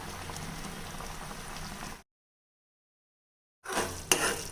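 Jamun fruit jam boils in a pan with a dense, steady bubbling. After a short silence the bubbling returns, with one sharp knock against the pan.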